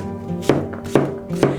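Three sharp knife strokes chop zucchini on a cutting board for squash caviar, evenly spaced and close, with no talking.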